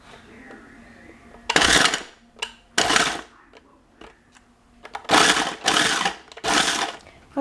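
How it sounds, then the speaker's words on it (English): A little mini food processor chops dandelion root in several loud whirring pulses of one to two seconds each, separated by short pauses. "because I do have a little mini food processor, I'm going to use that to just have even pieces"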